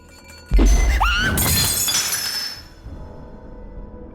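A wine glass falls from a shelf and shatters with a loud, sudden crash, followed by bright tinkling shards that ring and scatter before fading into a quiet room.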